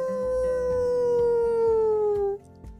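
An animal howls above a burrow as a story sound effect, one long, loud, sustained howl that slowly falls in pitch before cutting off, with faint knocks underneath.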